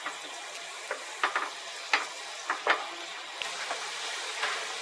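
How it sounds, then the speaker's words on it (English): A pan sauce reduces and sizzles gently in a skillet, a steady low frying hiss broken by a few soft clicks and stirring taps, fairly close and quiet throughout. "we'll just let this reduce on down, y'all. That'll give us a nice little pan sauce"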